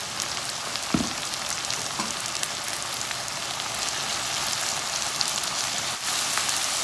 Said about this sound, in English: saute it, some garlic. I've got the minced garlic, so I'm just putting 2 teaspoons garlic.